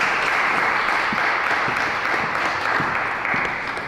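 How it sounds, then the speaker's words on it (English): An audience applauds speakers at a community event, a sustained dense round of clapping that holds steady for a few seconds before easing slightly. "Round of applause one more time for the speakers."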